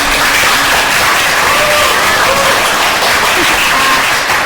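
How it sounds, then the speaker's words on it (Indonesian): An audience at an inspirational alumni talk-show event applauds for Sabrina, a dense, steady wash of clapping that stays loud throughout with a few voices mixed in. "tepuk tangan buat Sabrina"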